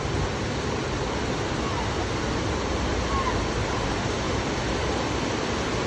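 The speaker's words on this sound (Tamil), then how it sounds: "இதுதாங்க நம்ம கொடிவேரி வாட்டர் ஃபால்ஸ்" Waterfall at Kodiveri Dam, a steady, dense roar of falling water that holds at an even level throughout with no pauses or breaks.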